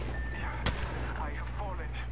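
Video game gunfire, a single sharp shot standing out above dense battle noise and low rumble, with a voice talking during the clip.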